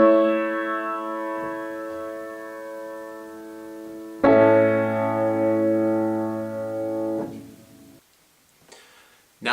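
Four-part chord progression on piano: held, ringing chords change sharply partway through, then another shift, and the final chord fades into quiet.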